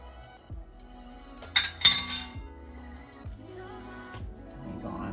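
A hand-cranked flour sifter clacks in a rhythmic series of metallic clicks while sifting flour, salt and baking powder for a lemon loaf cake, with a brief louder clinking burst in the middle.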